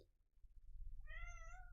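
A cat meows once, a clear rising and falling cry close by, rising after a quiet rumbling start, with no talking.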